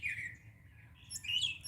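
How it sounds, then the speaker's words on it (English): A single bird calls from a tree in Florida, giving faint high chirps and warbling notes against quiet low background hum. "I've got one bird making all those sounds in this tree over here."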